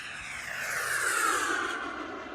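An RC model MB339 jet flies past, a smooth rising and falling whoosh of its engine that swells to a peak mid-pass and then fades, heard alone.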